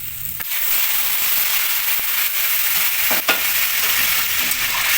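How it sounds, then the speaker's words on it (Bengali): Hot water splashes into spices and Gobindobhog rice frying in a pan for muri ghonto, raising a loud, steady hiss and sizzle with a few sharp crackles, no talking. "গরম জল দিয়ে দিচ্ছি।"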